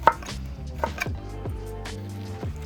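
A knife chops meat for curry on a cutting board, a handful of separate close thuds in irregular rhythm, each knock clear and sharp against a quiet kitchen background.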